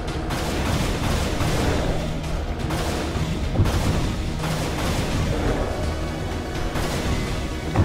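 A rocket launcher firing in the video game Unreal, with heavy booming blasts repeating over a loud, continuous roar of combat and game noise.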